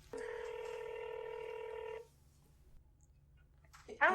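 A telephone line dials out during a call-in radio show, a steady two-second tone followed by quiet line hiss and a faint click, then a voice picks up at the very end.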